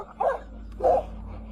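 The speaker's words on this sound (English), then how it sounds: "The owner's dog barked fiercely" Two sharp barks from a dog at a campsite during a bear encounter, spaced about half a second apart, moderately close over a low background hum.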